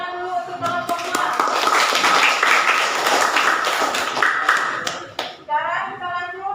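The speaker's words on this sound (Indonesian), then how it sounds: "kita berikan tepuk tangan dulu untuk kelompok 2" Classroom applause for a student group, a sustained burst of clapping from many hands lasting several seconds, with children's voices and talk mixed in around it.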